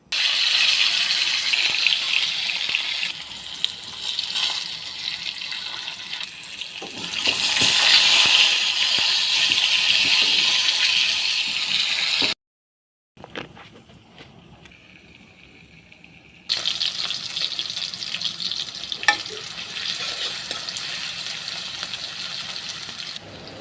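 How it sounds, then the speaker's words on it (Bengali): Large chunks of potato fry in a pan, giving a dense, close sizzle with rattling and clattering as they are moved around. The sizzle breaks off briefly and then returns, and no one speaks. "এখন আলুগুলো ভাজবো।"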